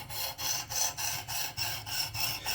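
A knife edge stroked across a sharpening stone in a steady rhythm of about eight even rasping passes, each a rough gritty scrape, close and alone.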